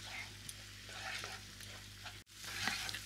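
Spice paste (masala) for a Bengali steamed egg curry fries and gets stirred in a pan, a steady close sizzle with scraping spoon strokes, briefly cut off near the end before resuming.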